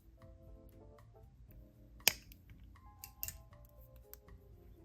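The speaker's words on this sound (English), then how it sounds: "I'm going to snip off this bent end." Small cutters snip the bent end off a length of jewelry wire for a beaded owl necklace, one sharp close click followed by a second fainter snip, set against quiet room noise.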